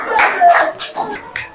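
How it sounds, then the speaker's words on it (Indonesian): A class of fifth-grade children claps in a classroom, a short burst of loud, uneven, overlapping claps heard close. Faint voices come through under the clapping. "Nah, tepuk tangan dulu."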